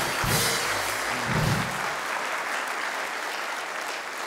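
Studio audience applause at a television talk show, a steady wash of many hands clapping that fills the whole stretch and stays even throughout.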